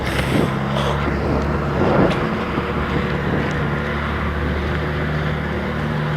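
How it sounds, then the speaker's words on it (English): A truck rumbles outdoors near a muddy softball field, a steady low engine drone with wind noise that stays even and fairly loud throughout, with no voices over it. "that's a truck behind me, so I'm going to walk inside so you guys can better hear me"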